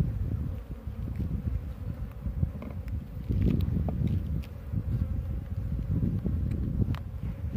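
Honey bees buzz in a dense, steady drone during a hive transfer, with the swarm close and continuous. Wind noise and faint rustling sit underneath.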